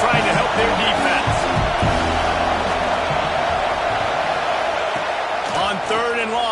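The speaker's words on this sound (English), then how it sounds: "Listen to this crowd just shaking the girders of this place, trying to help their defense." A football stadium crowd roars in a dense, sustained wall of noise, loud and unbroken for several seconds, while a commentator talks over it.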